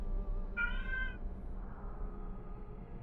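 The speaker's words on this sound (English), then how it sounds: "You might hear my cat screaming." A single clear cat meow, close and fairly loud, lasting under a second over a low background hum, then only quiet room noise.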